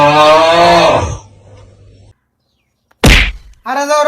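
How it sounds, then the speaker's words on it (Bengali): A cow lets out a long, loud moo close by at a village cattle market, then after a pause gives a shorter call, with a sharp thump between them. "কালাটা জাতের গরু দেখতো গরুটা সুন্দর আছে"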